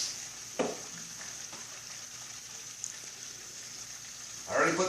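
Butter sizzles in a pan for shrimp scampi, a faint steady frying hiss with brief clatters of utensils and a louder stir near the end.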